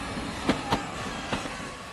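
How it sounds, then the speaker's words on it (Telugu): A train begins pulling out of a station, a steady rolling rumble with a few sharp metallic clanks from the carriages over a couple of seconds. "అయ్యో ట్రైన్ స్టార్ట్ అయింది."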